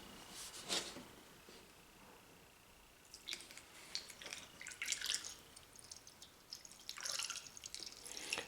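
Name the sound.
Honda Type 2 coolant being poured into a car radiator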